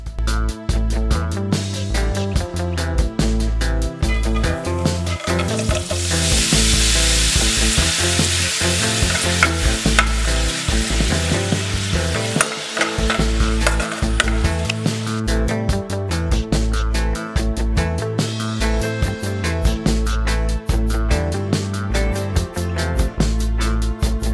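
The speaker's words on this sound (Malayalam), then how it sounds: "പപ്പടം ചെറുതായി അരിഞ്ഞെടുത്ത് വെളിച്ചെണ്ണയിൽ വറുത്തെടുക്കാം" Steady, loud sizzling of small chopped pieces of pappadam frying in coconut oil, a dense crackling hiss that continues throughout with occasional louder bursts.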